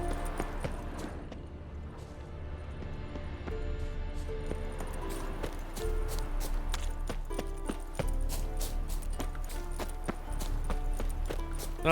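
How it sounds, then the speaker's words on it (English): Rhythmic hoofbeats of a mare in The Witcher 3: Wild Hunt clop steadily along over a continuous musical backdrop, walking at an even pace with no talk. "It's a horse."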